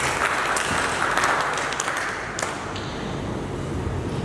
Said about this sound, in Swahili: Naomba tupigie makofi tena